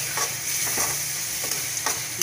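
Masala for a ridge gourd curry frying in a pan, a dense continuous sizzle with scraping strokes of a spatula every half second or so, close and steady without voices.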